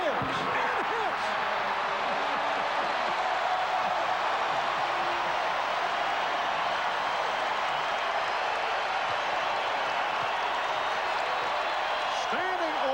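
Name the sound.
capacity crowd at Madison Square Garden basketball game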